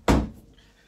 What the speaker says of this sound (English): Just shut my door.